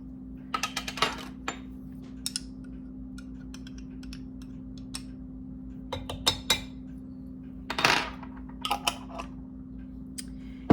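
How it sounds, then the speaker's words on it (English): Casserole ingredients mixed in a bowl, intermittent clinks and scrapes of a utensil against the bowl in short irregular bursts over a low steady hum, no talking. "We'll mix those all up good."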